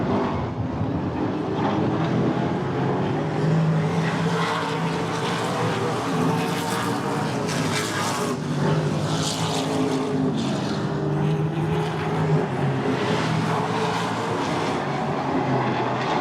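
Race cars roar around the I-94 Raceway oval during a feature race, a dense, continuous engine drone heard from a distance that swells and fades slightly as the cars battle for position.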